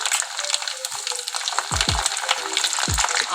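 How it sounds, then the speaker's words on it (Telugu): Garlic frying in hot peanut oil for a star gooseberry pickle: steady close sizzle with bubbling and a few low thumps from stirring, no voices. "తర్వాత తెల్లగడ్డలు వేసుకుందాము."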